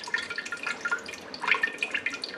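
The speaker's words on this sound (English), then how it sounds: "Now I've got a fine mesh sieve that I'm going to be pouring the broth through." Homemade bone broth poured through a fine mesh sieve, a close splashing, dribbling stream of liquid with uneven drips and trickles, loud and continuous with no talk.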